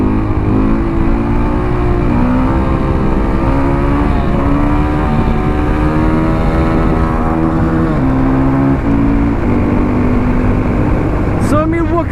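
A 2016 KTM 500 EXC supermoto motorcycle rides along with its engine revving and shifting through rising and falling pitches, loud and continuous with steady wind noise.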